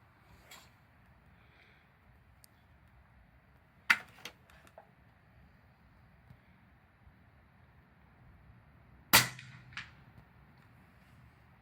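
A rifle firing .308 Winchester subsonic ammunition at a shooting range gives two sharp, isolated cracks several seconds apart over quiet outdoor background, each short and fairly loud.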